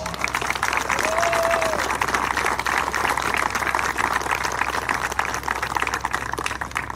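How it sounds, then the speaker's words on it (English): Crowd applause at a college baseball game on the field, a steady, dense wash of clapping that holds loud for the full stretch, with a brief whistle-like tone early on. "One more round of applause for all of our heroes"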